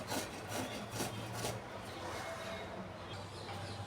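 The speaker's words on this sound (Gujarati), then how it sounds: "આ રીતના આપણે દૂધી એમાં સીણી લઈશું" Bottle gourd is grated by hand in quick, rhythmic rasping strokes, each a short scrape, repeating several times before the sound thins out.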